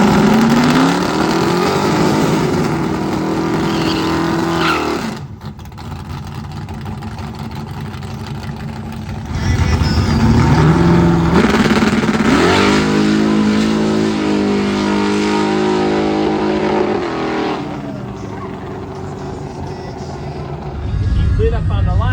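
Engines roar and rev at a quarter-mile drag strip where Hellcat muscle cars line up, with loud surging passes and idling between runs, and people talk over the engine noise.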